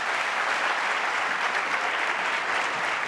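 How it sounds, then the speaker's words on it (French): Steady, dense audience applause from a crowd at a comedy parliament stage show, loud and continuous throughout with no talk over it. "Veuillez, s'il vous plaît, l'applaudir."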